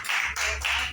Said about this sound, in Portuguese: As palmas de louvor ao Senhor.